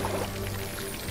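Water tipped out of a wooden tub onto a fire in the Lego Harry Potter video game, a short steady splashing pour lasting about a second, close and moderately loud over a low game hum.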